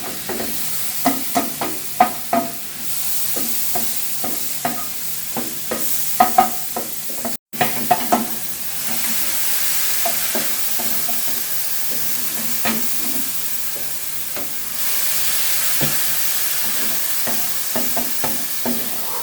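Sliced bird's eye chilies sizzle and hiss in a hot pan while a utensil stirs them with repeated scraping strokes, a steady frying crackle running underneath with a brief break midway.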